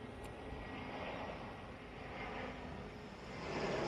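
A distant easyJet airliner, an Airbus A320-214 bound for Fuerteventura, rumbles as it takes off, a faint steady engine roar swelling slightly toward the end.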